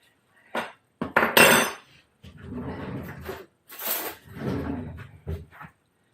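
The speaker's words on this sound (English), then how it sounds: "Put that in a jar." Red pepper hummus is spooned into a jar in a home kitchen, giving close, irregular clinks, knocks and scraping bursts with short pauses between.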